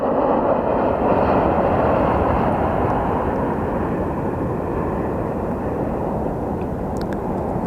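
Airliner rolling on the runway at Sky Harbor Airport after touchdown, a loud, steady broadband roar of engines and wheels that fades gently toward the end.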